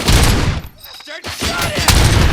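Gunfire in the video game RoboCop: Rogue City, loud bursts of shots at the start and again near the end with a brief quieter gap between them, while a voice talks faintly underneath.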